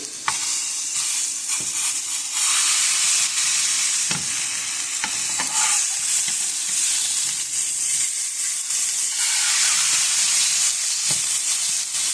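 Breakfast sausage patties for a bagel sizzle loudly in a skillet, steady bright frying hiss throughout, broken by several sharp scrapes and thumps as a strong spatula flips and smashes them, no talking.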